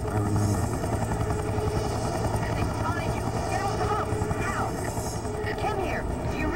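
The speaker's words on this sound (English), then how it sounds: "The helicopter." A helicopter in the video game XIII thuds with a loud, continuous rotor drone close by, with voices talking over it.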